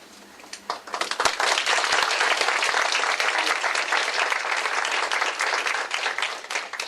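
Audience at a community services event in Toronto bursting into applause, a dense sustained round of clapping that rises quickly after a spoken line and carries on for several seconds.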